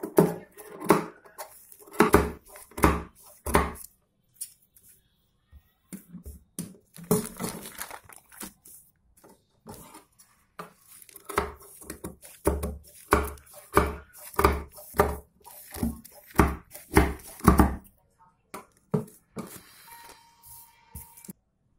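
Scissors snipping away extra fabric strips from a ladies' trouser, crisp cuts coming in quick rhythmic runs separated by short pauses, close and clear with no talking.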